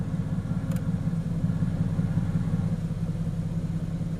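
A Mercedes-AMG GT S in Sport Plus mode idles with a deep, steady throbbing burble, moderately loud and close, continuous for the whole moment with no speech.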